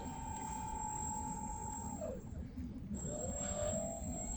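Electric motors of a Carpboat Deluxe bait boat with upgraded motors and batteries, a steady high whine at full throttle that drops briefly and then climbs back, over a faint outdoor background hiss.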